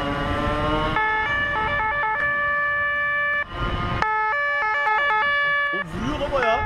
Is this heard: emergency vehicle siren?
yes